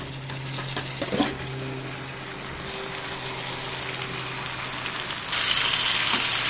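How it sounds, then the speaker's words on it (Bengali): Meat is added to a pan of potatoes and onions frying in oil. A brief splashing hit is followed by a continuous sizzling hiss that grows louder toward the end, with no voices. "এবার এতে মাংসটা দিয়ে দেবো।"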